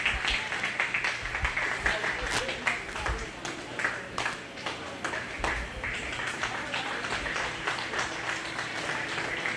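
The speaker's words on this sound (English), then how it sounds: "Again, a nice round of applause." An audience at a county fair goat show applauds steadily, dense clapping with some louder individual claps, and a voice speaks over it partway through.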